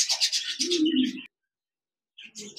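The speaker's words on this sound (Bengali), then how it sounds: "এখানে দেখতে পাচ্ছেন একজোড়া ক্লাসিক বাজরিগার রয়েছে, বিগ সাইজের রানিং পেয়ার" A pair of large classic budgerigars call in short chirps and warbling notes close by: a burst of chatter, a brief silence, then another call.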